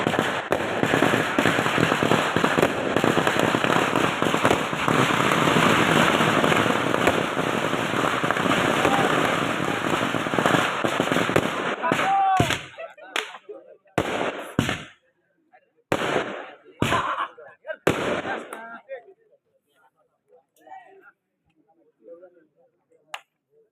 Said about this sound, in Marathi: फटाक्याची आतिषबाजी पाहायला मिळते आणि या फटाक्याच्या आतिषबाजीमध्ये फायनल